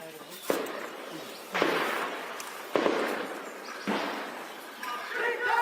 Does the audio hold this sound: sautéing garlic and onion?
no